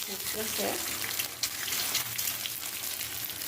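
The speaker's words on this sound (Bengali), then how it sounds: "রুটি ভাজবো তা গরম হয়ে গেছে আর এখন রুটিগুলো দিয়ে দিচ্ছি" Rotis fry in oil on a hot pan, giving a continuous crackling sizzle that stays fairly even throughout, close and moderately loud.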